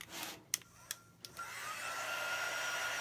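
A hair dryer blowing on chalk paste spread over a font transfer, switched on after a few clicks and then running as a steady close whoosh.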